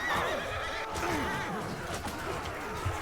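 A horse in the video game Mount & Blade II: Bannerlord gives a loud, shrill whinny that falls in pitch, followed by softer snorting and clip-clopping amid battle ambience.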